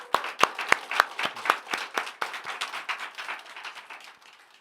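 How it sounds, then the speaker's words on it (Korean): A church congregation at a Sunday worship service claps in blessing for its elder members, distinct close claps in a quick steady rhythm that gradually soften and fade. "우리 교회 장년들 한번 경례의 박수, 우리 축복의 박수 한번 합시다"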